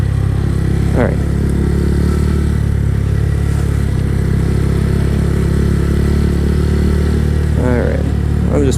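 A Honda Grom motorcycle engine drones loud and close in a steady mid-pitched hum with slight throttle changes, while a voice talks briefly over it.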